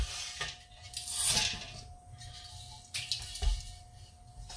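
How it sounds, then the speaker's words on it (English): A small weight comes off a pressure canner used for raw-pack green beans and the metal lid is popped open, giving quiet, scattered metallic clinks and clanks close by. "So I'm gonna pull off the little weight and pop open my lid."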